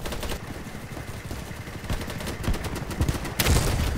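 Rapid bursts of gunfire in the video game BattleBit, sharp repeated shots in quick rhythmic volleys, growing denser and louder toward the end.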